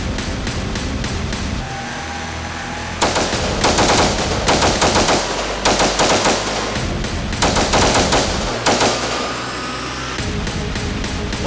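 An M4 rifle fitted with a Franklin Armory BFSIII binary trigger fires in loud, rapid bursts of closely paired shots, several clusters separated by short pauses, sharp and close with no talking.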